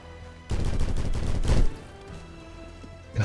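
Gunfire from a SCAR-H rifle in the online game Criminality, a loud burst of rapid shots lasting about a second with a heavier blast near its end, then quieter background and another short shot at the close.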